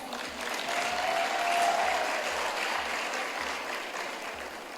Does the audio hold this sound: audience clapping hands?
yes